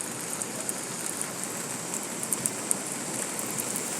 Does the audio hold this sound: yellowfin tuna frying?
no